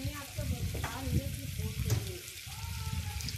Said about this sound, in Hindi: अब इसको भी हम मिक्स कर लेंगे।